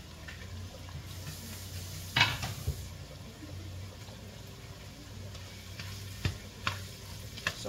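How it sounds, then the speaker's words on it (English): Mushrooms saute in a pan with a soft, steady sizzle, broken by a few sharp clicks and scrapes of a utensil against the cookware; quiet and close, no talking. "So once I've sauteed the mushrooms a little bit"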